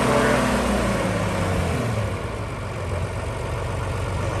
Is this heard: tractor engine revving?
yes